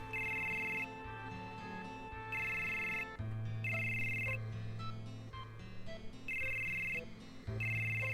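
Telephone ringing in the Final Fantasy VII video game, a synthesized ringtone sounding in repeated regular bursts with short gaps between them, layered over steady background game music, with no talking.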